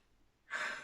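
A single breathy exhale swells up midway through, a soft drawn-out airy yawn close to the listener after a quiet start.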